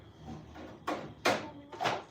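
Drawers pulled open in a cluttered workshop with old chainsaws: three short scraping slides in a row, the middle one loudest, close by, with no talking.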